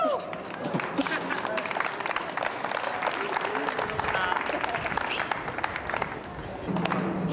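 Citizens clap for a street performance outdoors, with moderately distant, scattered clapping and occasional voices over a busy ambient background.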